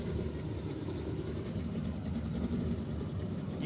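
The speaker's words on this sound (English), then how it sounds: "You can hear the sound of the hum of these engines." Engines of classic cars, including a Corvette, rolling past at an MLK Day parade in 2025, give a steady low rumbling hum close by, continuous and fairly loud with no talk.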